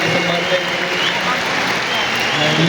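An event audience claps in sustained, dense applause, loud and close, a continuous wash of hand claps with no pauses, at an anniversary and product-launch gathering.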